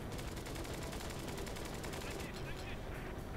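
Rapid machine gun fire from a WWII fighter plane in a Flying Tigers flight combat video game, a dense continuous burst mixed with engine roar for a few seconds.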